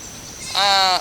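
A mini Nubian goat on a homestead gives one loud, close, wavering bleat in the second half, after a quiet moment of farmyard background.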